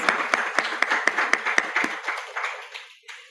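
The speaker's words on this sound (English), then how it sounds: "let's give Martin yet a second round of applause" A small audience applauds speaker Martin at a writers' meeting, with a few distinct claps over a softer crowd patter that thins and fades out after about three seconds.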